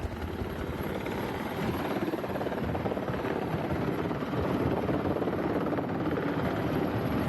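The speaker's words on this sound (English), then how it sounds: "Flight Lieutenant Grover negotiates a challenging pillar landing with shining skill." Indian Air Force helicopter making a precision pillar landing on a narrow high-altitude perch, its rotor chop and turbine roar loud, close and steady throughout without pause.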